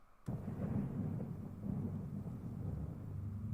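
A thunder sound effect in a video edit: a sudden loud crack followed by a sustained, heavy low rumble that rolls on without fading, with no voices.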